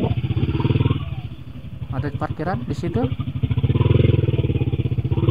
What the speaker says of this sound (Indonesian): Wah, ini mah lewatan motor.